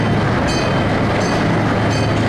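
A 2-foot narrow gauge, one-third size miniature train runs around a small lake at a park, its wheels clicking over rail joints in a steady, close rumble with no voices.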